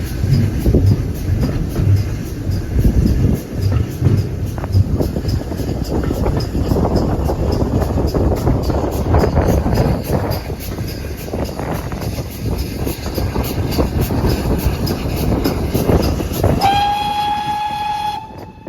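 A train pulls into Kingswear station on the Paignton and Dartmouth Railway, loud and steady with continuous rumbling wheels and clatter, then a sharp, sustained whistle near the end as it arrives.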